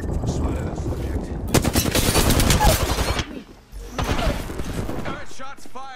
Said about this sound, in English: Got shots fired and they're hitting me.